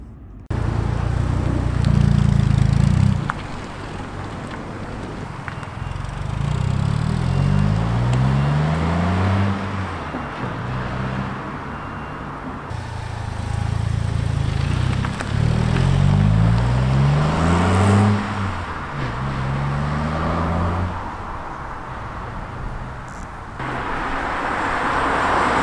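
A Ford Fiesta ST-Line on the road heard from inside, a steady engine drone with rising and falling tones as it accelerates through the gears, plus road and tyre noise throughout.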